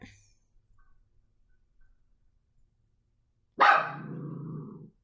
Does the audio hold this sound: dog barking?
yes